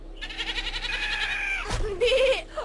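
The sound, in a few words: goats bleating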